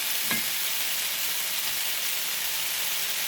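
Beef and liver fry together in one pan, a steady close hiss of sizzling fat with a brief stirring clatter near the start.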